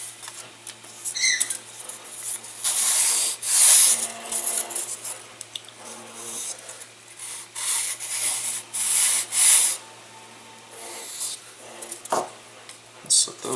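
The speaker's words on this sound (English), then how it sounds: "Just kind of sand the edges very lightly like this." Light sanding along the edges of small model airplane parts for a K777 Ministick build, heard as soft, close rubbing strokes in irregular bursts with short pauses between passes.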